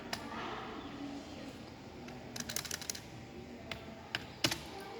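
Someone typing a title on a computer keyboard, scattered quick key clicks in small bursts, close but fairly quiet over a faint steady background hiss.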